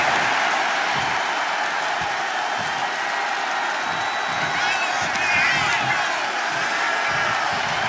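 Arena crowd in the WWE 2K25 wrestling video game, a steady roar of cheering and applause that swells slightly toward the end, with commentary voices talking over it.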